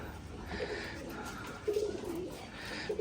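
Pigeons at a pigeon farm give a few soft, low throaty coos, spaced in short bursts over steady background noise, fairly near but not loud.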